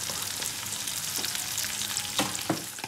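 Onions and pepper sizzle steadily in a hot pan, with a few scraping stirs and clicks breaking through the frying hiss.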